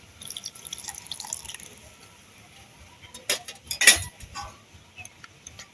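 About half a cup of water poured into recipe ingredients that include sugar and green chilies, heard as a brief splash and a few drips and clinks after a quiet stretch.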